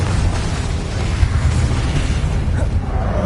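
Explosive bursts from the Confringo fire spell in Hogwarts Legacy, a dense continuous rumble of booms and blasts with steady loudness, no talk.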